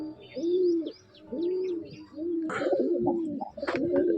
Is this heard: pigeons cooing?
yes